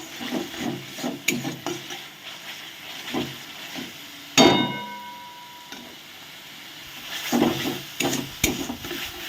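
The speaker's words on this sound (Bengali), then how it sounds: "এই মশলাটাকে খুব সুন্দর করে কষিয়ে নিচ্ছি। দেখুন মশলার গা থেকে তেলও ছাড়ছে।" Spice paste fries in oil for an egg and potato curry, with a soft continuous sizzle and repeated scraping stir strokes, one sharper clatter midway.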